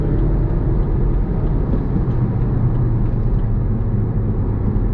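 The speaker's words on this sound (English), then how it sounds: "Flooring the car." A BMW 316i is floored at full throttle in sports mode, heard from inside the cabin as a steady, loud low engine rumble and drone that holds evenly throughout.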